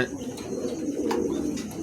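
Pigeons offered for sale, with soft low cooing running steadily through a short stretch, near and moderately quiet, beside faint background talk.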